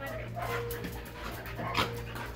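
A dog pants softly and steadily at close range during a petting and training session, with faint whines and background noise throughout.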